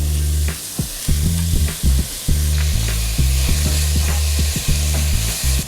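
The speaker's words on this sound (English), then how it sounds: "just stir it up and let these vegetables cook for about 4 to 5 minutes until they're tender" Vegetables seasoned with salt and pepper sizzle steadily in a hot pan, with repeated scraping and stirring strokes over the frying, loud and close, no talk.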